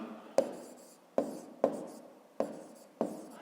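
A pen or pencil taps and scratches across paper while writing a fifth-grade math solution, five sharp strokes spaced unevenly over a few seconds, each fading quickly, faint and close, with no talking.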